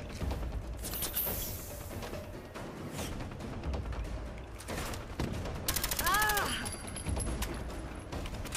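Gunfire in Fallout 4 during the Nuka-World DLC: a dense burst of rapid shots around the middle, with scattered impacts and game noise around it, and someone talking at times.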